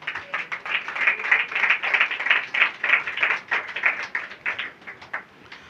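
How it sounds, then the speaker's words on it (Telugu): An audience claps hands together at a church gathering, a brisk, fairly even run of many overlapping claps, moderately close, swelling and then tapering off toward the end. "అందరూ చప్పట్లు కొట్టండి"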